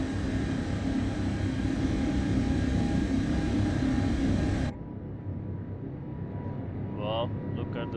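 A steady, loud airliner engine roar during takeoff in Microsoft Flight Simulator 2024 cuts off abruptly partway through, leaving a quieter hum and a voice speaking near the end.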